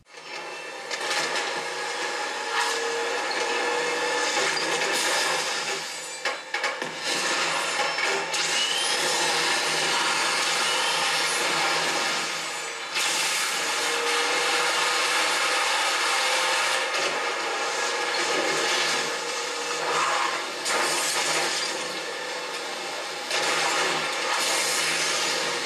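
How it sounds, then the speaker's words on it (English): Gameplay audio from the racing video game Asphalt Extreme, played on a Mi A1 phone: a dense, steady, loud roar of engine and effects that runs almost unbroken, with only a brief dip near the middle. "Next I'll play Asphalt Extreme."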